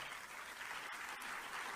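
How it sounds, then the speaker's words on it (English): Faint, even applause from a distant audience, a thin steady patter of clapping that stops abruptly at the end. "Also, tepid applause"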